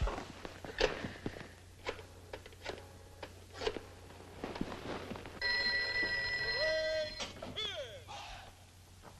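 A telephone dialed and then ringing in an office scene of a horror film, with the rapid ringing tones arriving after a series of dial clicks and footsteps, at moderate level amid faint room noise.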